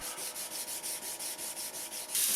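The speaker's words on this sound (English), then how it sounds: "hand sanding" A steel WW2 CuMai commando dagger blade is sanded by hand in steady back-and-forth strokes, about five per second. The rhythmic rasping scrapes are soft and close, with a brief louder scuff at the end.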